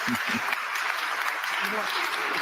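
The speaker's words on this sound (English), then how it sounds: "if I could ask my panel to come up, a round of applause here" Audience applause as a panel comes on stage at a conference on Europe and the war in Ukraine, broad steady clapping with brief speech at the start and end.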